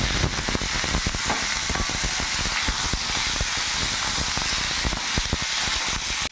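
Diced papaya and potato hit hot oil tempered with dried red chilli and black cumin, setting off a loud, steady sizzle and hiss that runs without a break, with occasional soft stirring clicks.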